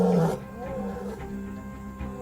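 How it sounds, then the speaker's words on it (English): A lion roars at night to call its pride back together, a deep, low rumbling roar that swells at the start and then trails off into a quieter, sustained growl-like drone. "The roar can be heard over 8 kilometers away."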